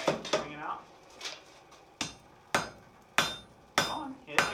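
During forge welding of hot chain, a hammer strikes the metal with loud ringing blows at irregular intervals, close by, each hit sharp and metallic with a short decay.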